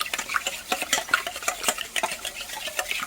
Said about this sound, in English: Just whisking it up nicely.